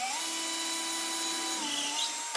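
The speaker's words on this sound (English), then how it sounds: "So what you do is the top third edge of your picture frame, you drill into it." A small power drill bores into the top edge of a wooden picture frame, a steady high whine held for about two seconds with a slight pitch shift near the end.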